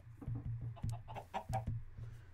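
Chickens clucking in a Minecraft chicken coop in the video game, a run of short, evenly repeated clucks with a few brighter squawks, close and moderately loud with no talk.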